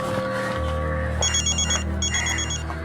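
A telephone rings in two short trilling bursts of electronic ring tone over a low background hum indoors.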